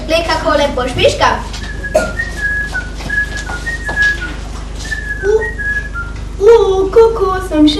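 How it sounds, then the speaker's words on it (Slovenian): A person whistles a lively, wandering melody of bright sustained tones and quick runs, close and clear, with a voice and other sounds mixed in underneath. "Glej, kako lepo žvižga."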